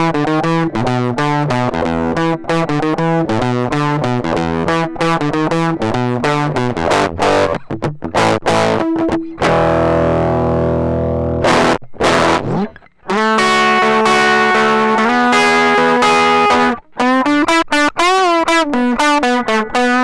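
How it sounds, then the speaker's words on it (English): Electric guitar played through The Color Box overdrive pedal, a blown-out fuzzy distorted tone with loud strummed chords and sustained notes, one long ringing chord in the middle, continuous and heavily saturated. "It gives you just sort of like a blown out fuzzy tone"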